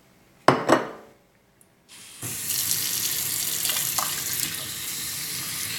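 A kitchen tap running water for oatmeal, preceded by a couple of sharp clunks from handling the faucet, then a steady rushing stream that continues to the end.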